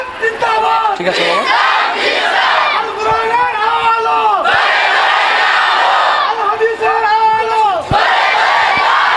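At a religious gathering, a massed crowd chants the takbir in repeated loud call-and-response waves, a close, continuous roar of many voices rising and falling across the clip.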